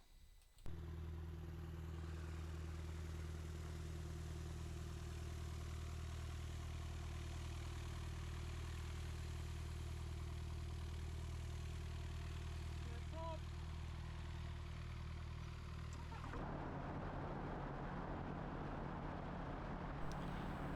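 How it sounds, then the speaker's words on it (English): A gyroplane engine runs steadily after start-up on an airfield at Llanbedr, a loud continuous droning hum with strong low harmonics that holds for about sixteen seconds before the tone shifts to a rougher, higher-pitched run. "So with the aircraft started, we're just going to do some taxi checks"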